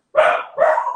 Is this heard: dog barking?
yes